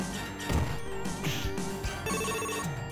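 Telephone ringing in the game Crime Fighters 2, a bright repeated bell tone over busy game music and clatter, moderately loud, with no talk over it.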